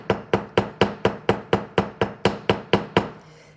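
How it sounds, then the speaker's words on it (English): A hammer strikes wire on a bench block again and again to texture it for wire-wrapped paddle earrings, giving about a dozen loud, evenly spaced metallic taps at a steady pace. "I'm turning my hammer in a little bit. So it's coming off that lip."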